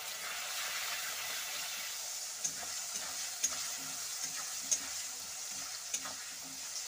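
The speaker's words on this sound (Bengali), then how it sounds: "আলুটা একটু ভাজা ভাজা হয়ে গেলে আমি আলুটা নামিয়ে নেব" Potatoes fry with salt and turmeric in hot oil, giving a steady close sizzle with occasional sharp pops and stirring clicks throughout, no voices.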